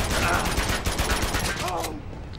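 Gunfire in an Uncharted 2 deathmatch match, a dense rapid burst of loud game shots that cuts off near the end, with some talk mixed underneath.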